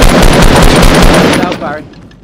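Rapid, loud gunfire from the video game Fortnite rattles in a dense continuous burst, then tapers off near the end, with speech under the shots.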